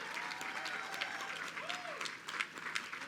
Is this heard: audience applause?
yes